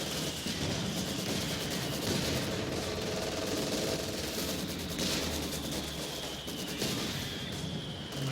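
Machine gun fire in the Company of Heroes 2 real-time strategy game on a winter map, dense rattling bursts among scattered gunshots and battle noise, steady and busy throughout with no talk.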